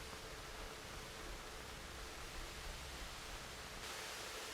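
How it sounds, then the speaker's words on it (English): Steady broadband static hiss fills a song, dense and unbroken like rushing water, growing brighter and whiter near the end. "I have found the rhythm in the static though"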